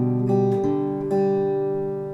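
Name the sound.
fingerstyle guitar playing a song, measure 3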